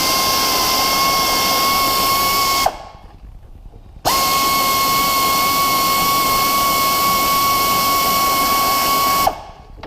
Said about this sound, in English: I do that with a 1/4" air ratchet, 1/4" in size, with a 1/4" wobbly socket